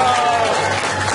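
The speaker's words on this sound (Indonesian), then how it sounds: "Tepuk tangan lagi untuk kita semua." Brief burst of crowd applause in a seminar hall during an Indonesian motivational talk, a dense wash of clapping for about a second.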